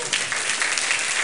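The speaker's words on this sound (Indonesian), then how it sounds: "Tepuk tangan dong." Applause from an audience at a gathering, dense and steady clapping throughout, fairly loud and close, with no voices over it.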